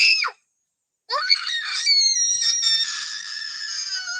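A person lets out a shrill, piercing scream, then a pause of silence, then a longer sustained high-pitched scream lasting several seconds, loud and close with no talk over it.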